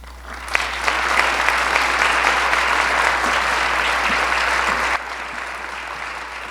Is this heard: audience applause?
yes